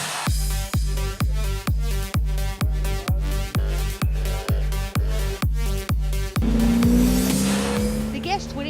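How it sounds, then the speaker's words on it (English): Audi R8 V10 sports car on hot laps, engine revving hard through rapid evenly spaced gear changes, about a dozen sharp pulses, then a sustained roar with tire squeal as it passes. "they could opt for the Mercedes AMGs or the super hot Audi R8 V10"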